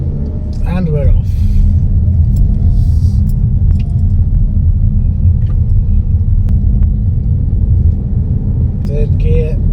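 A Vauxhall Grandland X 1.2 turbo pulls away, its engine and road rumble forming a steady, loud low drone from inside the cabin, with a brief voice and a light jangle early on.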